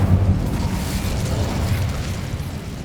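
A fiery Incendio spell blast in the Hogwarts Legacy video game, a loud, dense roaring burst that hits at once and then rumbles on steadily for a few seconds with a heavy low-end body.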